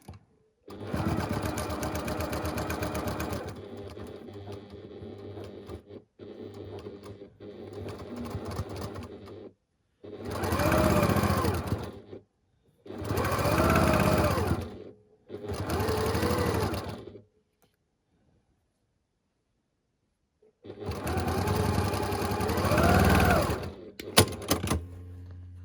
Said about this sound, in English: And then we're just going to stitch down this one side.